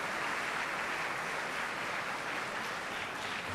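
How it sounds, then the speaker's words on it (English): Audience applause at a large two-day event, a dense, steady wash of clapping from many hands that stays loud and even throughout, with no talking heard over it. "So that should be reflected in your applause"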